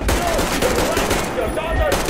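Continuous gunfire from the video game Metro Exodus, dense and sustained across the whole stretch, with a voice faintly mixed in under the shots.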